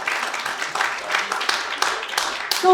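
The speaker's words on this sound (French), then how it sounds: "On l'applaudit, on l'applaudit." An audience at a birthday evening gathering claps in a short burst of applause, dense and fairly close, with a voice speaking over it.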